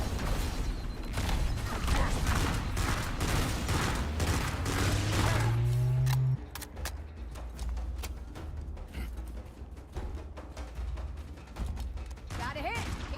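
Sustained gunfire in a Halo ODST mod, a dense, loud barrage for the first six seconds, then sparser scattered shots and mechanical clatter continue under the action.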